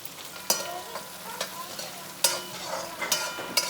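Ginger, garlic and onions frying in a pot, a continuous sizzle broken by several sharp spoon scrapes and knocks against the pot, close, with no talk.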